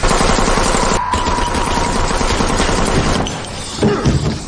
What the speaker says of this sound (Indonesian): tiba-tiba terdengar suara yang merupakan bom ledakan dari para kaum misli hutan tersebut